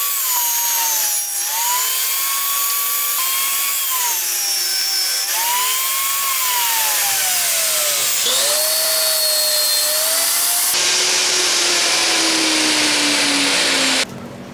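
A power tool cuts rotten wood off a rough walnut piece with a loud, continuous high-pitched whine that rises and dips as the load changes, close up, then drops off at the very end.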